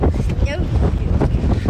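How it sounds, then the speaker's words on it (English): Wind gusts buffet the microphone during an outdoor hike, a loud, rough rushing over the whole short moment, with voices nearby. "Windy."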